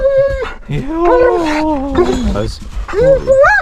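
A dog whines and whimpers in rising and falling high-pitched cries, close by, with a short yip near the end.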